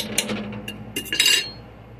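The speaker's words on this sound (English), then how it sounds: "Just mix it a little bit so that everything's able to marinate pretty evenly" A utensil clinks and scrapes against a bowl while mustard and cumin marinade is stirred into chuck steak, giving a few quick bright taps and a short cluster of clatters, close and with no voices.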